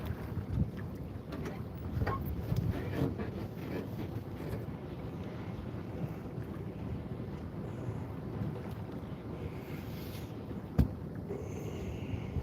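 Wind blowing outdoors on a fishing outing, with a steady rushing buffet against the microphone throughout and one sharp knock near the end.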